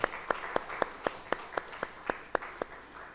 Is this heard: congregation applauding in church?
yes